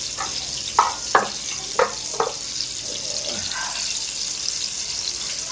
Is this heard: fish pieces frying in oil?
yes